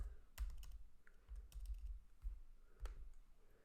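Computer keyboard typing as code is entered, a series of irregular, faint key clicks in small bursts with pauses between, close and quiet, no talking.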